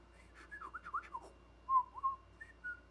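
A person whistles a short, wavering tune of sliding notes, then a few sustained tones. Nearby and moderately quiet, with no talking.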